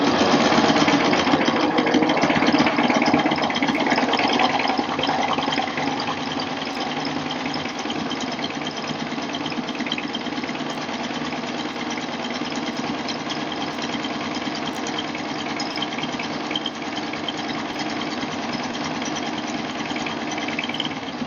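A Baby Lock Euphoria serger hums steadily as it stitches and gathers fabric with a gathering foot, a continuous close mechanical whir that runs without talk and eases slightly after the opening seconds.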